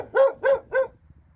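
A dog barks three times in quick, evenly spaced succession, loud and close, followed by quiet, outdoors during a scooter trip through the Masurian lakes area.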